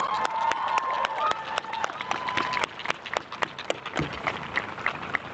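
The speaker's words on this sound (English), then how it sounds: "Please join me in giving her a huge round of applause." Audience at a graduation ceremony claps in a loose, sustained round of applause with scattered sharp claps and a few cheers, heard from within the crowd at moderate volume.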